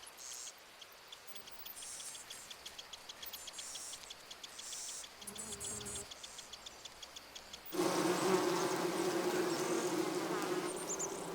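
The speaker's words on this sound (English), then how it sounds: "colony of Japanese honeybees has taken over the garden hives" Japanese honeybees from a colony in garden hives buzz steadily, a dense insect drone that swells much louder and fuller partway through as the swarm closes in.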